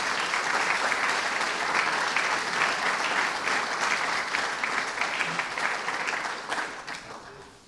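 Sustained audience applause at a Luxembourg National Day academic ceremony in 2024, a dense steady clatter of many hands filling the hall, holding level before tapering off toward the end.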